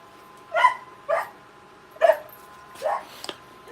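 A dog barks five times in sharp, separate woofs spaced about half a second apart, fairly close and clear over a quiet background.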